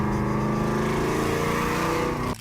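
A 1968 Ford Torino GT V8 engine roars steadily at high revs, loud and close, with a continuous rumbling drone that cuts off abruptly at the end.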